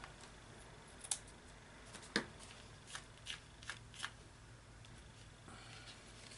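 Scissors trimming scrappy cheesecloth off a paper tag, a handful of quiet, separate snips spread over several seconds against a faint background hiss.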